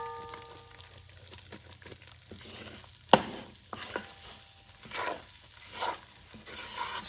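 A spoon stirs and scrapes dark gumbo roux around a pot for Louisiana-style gumbo, making repeated scraping strokes with one sharp clank against the metal, over a soft sizzle.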